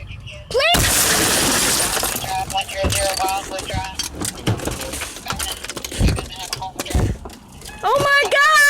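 A car window is smashed, and a loud shattering crash is followed by glass tinkling and crunching. Agitated voices then talk and shout over the debris for several seconds.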